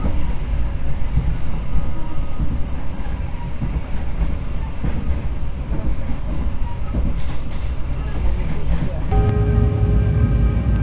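Onboard rumble of the Manahan passenger train from Solo to Jakarta running steadily on rails, a continuous loud low roar with faint rhythmic wheel clatter, and a tonal hum joining near the end.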